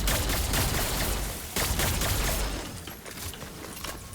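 Beat Blaster assault rifle in a video game firing two-shot bursts, loud repeated cracks close up, louder in the first half and then thinning into quieter shots and background noise.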